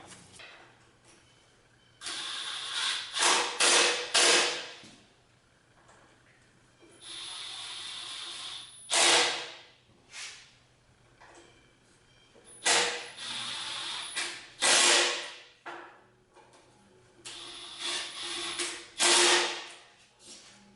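Stainless steel truss head bolts being fitted to a restored Delta 22-101 planer, heard as a series of close ratcheting and scraping bursts of a few seconds each, separated by short quiet pauses.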